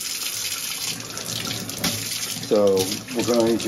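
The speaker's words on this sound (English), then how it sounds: "what we want to do is turn the water on, and the key is use warm water" Warm tap water runs steadily into a sink for rinsing a chalk paint brush, a broad hiss under a voice that begins partway through.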